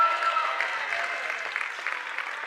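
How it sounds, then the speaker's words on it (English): Cambria-Friesland fans in a school gym give a high school basketball player a round of applause, steady clapping from a crowd that holds a fairly even level throughout. "The Cambria-Friesland faithful give him a round of applause."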